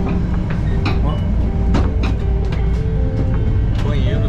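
A Vale passenger train rolls along the track toward Resplendor, Minas Gerais, with a loud continuous low rumble and rattle inside the carriage while someone talks over it.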